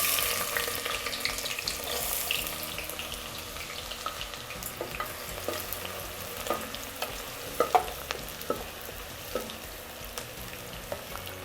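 Chopped onions fry in desi ghee for mutton do pyaza, a soft, steady sizzle with scattered spoon scrapes and clicks as the pan is stirred, fairly quiet and without talk.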